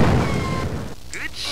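A magnetic mine explodes in the video game Cyberia with a deep, rumbling blast that fades within a second, followed by a short vocal sound.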